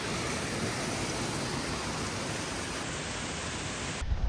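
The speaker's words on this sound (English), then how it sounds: "Creeks are flowing." Creeks running high with monsoon rain on Whistler Blackcomb give a steady, broadband rush of flowing water, loud and unbroken before cutting off abruptly near the end.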